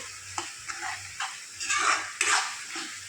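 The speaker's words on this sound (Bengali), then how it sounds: "এটাকে আমি এখন ভালো করে নাড়াচাড়া করে নেব" Soybean curry is stirred in a pan, giving repeated scraping and sizzling strokes that come in short bursts and then longer swirls, close and moderately loud with no talking.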